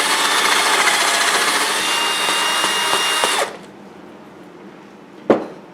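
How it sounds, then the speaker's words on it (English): A power drill with a larger bit bores into a wooden carving, a loud steady high whir with small catches as the bit wiggles in the wood, then it stops abruptly, followed by a single sharp knock. "take a larger drill. And drill down. And wiggle it around a little bit more."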